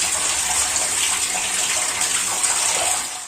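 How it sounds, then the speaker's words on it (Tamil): Curry leaves being rinsed under a running tap, a steady close splashing gush of water that holds evenly throughout before cutting off at the end, with no voices. "அதுக்கப்புறம் அப்படியே கருவேப்பிலைய கழுவி எடுத்துக்கோங்க"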